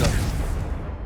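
A Confringo fire spell explodes in the video game Hogwarts Legacy as one short, loud, booming burst that decays quickly.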